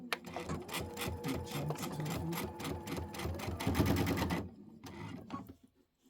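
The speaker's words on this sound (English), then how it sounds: "I am going to lock my stitch." A sewing machine stitches through quilt layers at a short stitch length in a rapid, even chatter of needle strokes, then slows to a few final stitches and stops.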